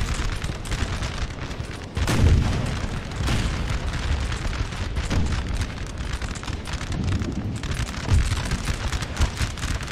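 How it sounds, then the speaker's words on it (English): Cannons fire canister shot in a Napoleonic war video game, booming in repeated heavy blasts over a continuous noisy rain-like wash, with no voices. "Blast them with some canister."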